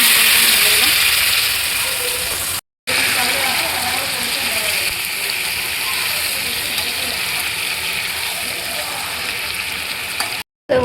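Mutton sizzles steadily as it is poured slowly into a hot pan for homemade biryani, a loud, continuous frying hiss with faint clatter that runs almost unbroken, pausing briefly twice.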